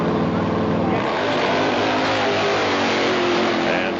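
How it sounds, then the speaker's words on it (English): Harley-Davidson Pro Gas drag bike at the 1995 All Harley Drags at Kil Kare Dragway, engine roaring as it accelerates down the strip, loud and continuous, with an announcer's voice partly mixed in. "Joe Tudor takes the Pro Gas win on a single. Cruises through at a 5:42 at 123 miles an hour"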